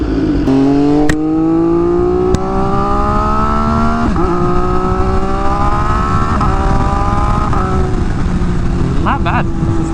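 A 2023 BMW S1000RR M Package sportbike accelerating hard through the gears, its loud whining engine note climbing steadily with brief dips at each upshift, heard close over constant wind roar.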